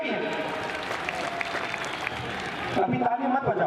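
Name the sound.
crowd applauding at a political rally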